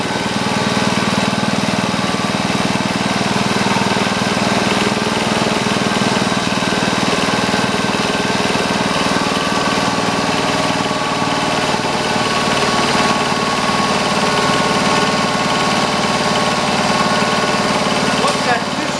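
A Kohler K181 single-cylinder engine, still burning off two-stroke fuel, idles close by with a steady, even drone that runs throughout, with a voice talking over it.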